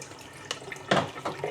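Chicken feet being rinsed under cold tap water in a home kitchen sink, a soft running-water wash with a few splashy bursts as the feet are moved under the stream, close and fairly quiet.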